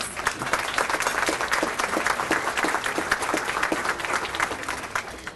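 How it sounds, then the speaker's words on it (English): A crowd applauds steadily for sponsors at an annual women's awards event, a dense wash of clapping that holds an even level throughout. "Please clap for all of the sponsors."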